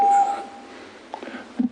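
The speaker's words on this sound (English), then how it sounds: "That's the 3-minute buzzer." A steady electronic tone sounds for a fraction of a second as the three-minute speaking-time buzzer at a city council meeting, followed by faint room noise and a few brief murmurs.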